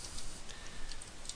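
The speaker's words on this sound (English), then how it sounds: "my typing skills are terrible" Someone types on a computer keyboard in quick, uneven bursts of light clicks, close and fairly quiet, with no voices.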